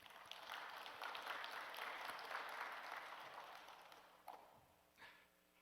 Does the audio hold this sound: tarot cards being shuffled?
no